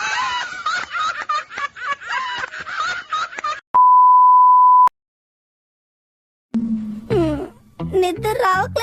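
A single steady electronic telephone tone sounds loud for about a second while a call to the police is placed, then gives way to silence, with cartoon-style chatter and snickering laughter before and after.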